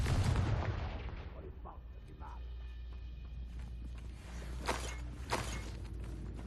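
Confringo fire spell explosion in the Hogwarts Legacy video game on Switch 2, a loud booming blast at the start decaying into a rumble, followed by lighter game effects and scattered pops.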